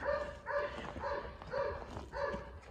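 Farm dogs bark in a rhythmic series, about five evenly spaced barks over a few seconds, moderately close with a little background noise.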